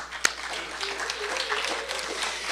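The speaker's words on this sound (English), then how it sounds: "A huge round of applause for Mina." Audience members at an award ceremony clap in a brief, moderate burst, with scattered hand claps under some murmured voices.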